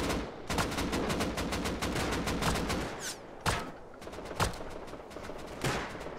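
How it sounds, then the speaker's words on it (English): Pistol gunshots in the video game Rust, a rapid string of sharp, loud cracks that runs together, then a pause and several more spaced single shots. "Sniping with a pistol"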